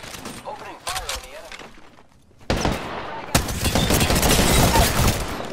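Video game gunfire breaking out after a short lull, dense rapid shots crackling loudly and continuously as a voice speaks near the start.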